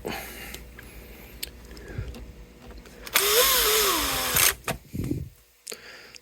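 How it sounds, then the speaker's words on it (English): A power drill with its torque clutch dialed down drives tuning machine screws on a vintage Viewer guitar headstock. A short whirring burst runs in the middle, a few clicks and handling knocks sit around it, and no one speaks. "Thing's got a clutch that's soft enough to put in tuning machine screws"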